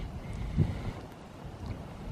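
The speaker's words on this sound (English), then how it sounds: "it's really getting to be windy" Low, rumbling wind buffets the microphone, steady and blustery with a stronger gust partway through and no speech.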